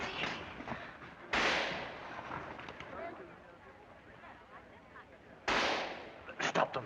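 Sharp, loud gunshot blasts with dull thuds and booms ring out in a 1934 film, with two heavy reports several seconds apart and a cluster of quick shots at the end, mixed with voices speaking.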